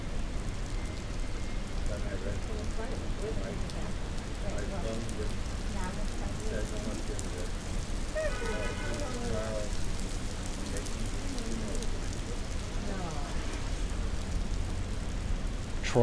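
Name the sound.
rain falling in Midtown Manhattan at night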